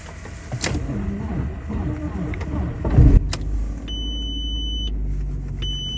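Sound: Audi A4 B6 engine starting on a weak battery

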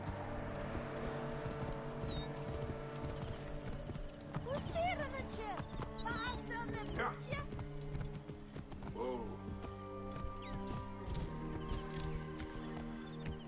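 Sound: horse hooves and whinny in Assassin's Creed Origins video game

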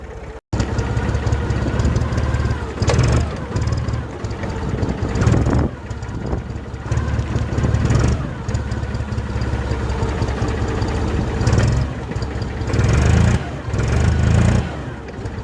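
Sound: IFA truck engine starting and idling

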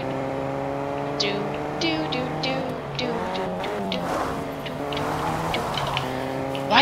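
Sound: car driving in video game Fortnite

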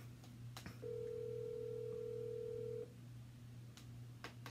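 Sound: phone call ringing, unanswered

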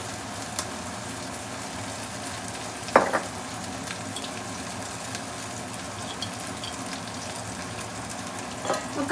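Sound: chicken frying on high flame for kadai chicken

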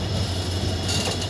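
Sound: train at Londa railway junction before coupling

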